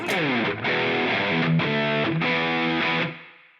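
A distorted electric guitar through a Line 6 POD Go Soldano Lead preset plays a few sustained chords, then the sound rings out and fades smoothly into a reverberant tail with little background hiss.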